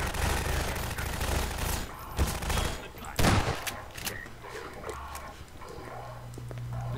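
Gunfire shootout in Half-Life 2, a dense, noisy stretch of overlapping shots and impacts with a loud burst partway through, under someone speaking.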